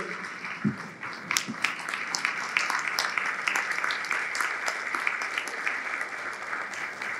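A seated audience gives sustained applause and rises in a standing ovation at a retirement felicitation in Parle, Mumbai, a steady dense wash of clapping with scattered sharper claps, lasting throughout without speech.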